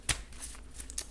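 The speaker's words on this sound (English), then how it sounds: "I like to give it a few extra shuffles just until it feels right" Tarot cards are shuffled by hand in a quick burst of crisp riffling flicks and soft slaps, close and fairly quiet, with no talk.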